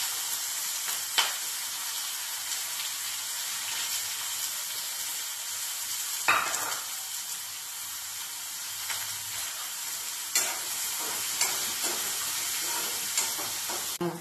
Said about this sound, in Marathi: तेल गरम झालेलं आहे, त्यामध्ये मी जिरं टाकून घेते, हिंग घालते आणि बारीक चिरलेला कांदा घालून घेते